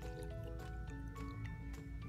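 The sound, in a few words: water poured into a jar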